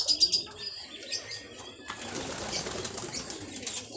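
Pigeons flap their wings in close, soft fluttering bursts, mixed with faint chirps and low cooing, without any talk.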